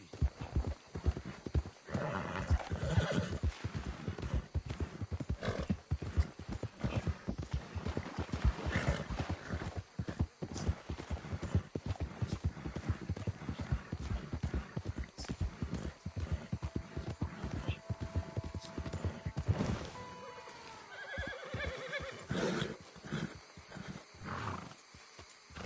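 Horse hooves clip-clopping steadily and close in Red Dead Redemption 2, with a neigh near the end and ambient game sounds, no talk.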